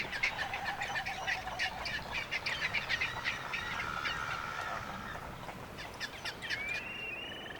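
Waved albatrosses, also called Galapagos albatrosses, calling at a nesting site on Espanola Island: repeated honking squawks and drawn-out whistling cries from several birds, near and fairly loud over steady ambient noise, with no talking.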